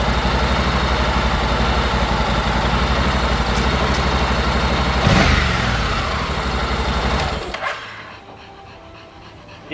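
A Honda NC750X DCT motorcycle engine with 229,000 km idles steadily and close by, a smooth continuous hum that cuts off near the end, leaving quiet.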